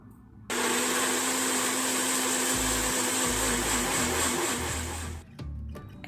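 A kitchen blender whirs loudly and steadily, blending a carrot, turmeric and black pepper mixture, starting abruptly and running for several seconds before cutting off, with low bumps from the jar underneath.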